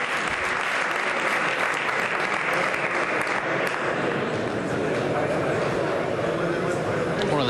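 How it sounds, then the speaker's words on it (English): Sustained, full crowd applause at a World Cup three-cushion billiards match in Alcalá de Guadaíra, a thick continuous roar of clapping that holds steady throughout. "And worthy of the applause."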